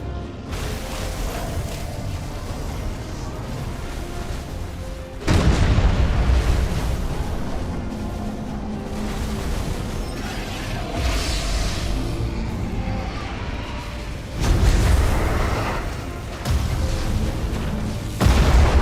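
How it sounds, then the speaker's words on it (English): Proton torpedoes striking ships in the space battle game Battlefleet Gothic: Armada 2, a run of heavy booming detonations, with several loud impacts rising out of a constant rumbling battle din. "They hit their own escort with proton torpedoes."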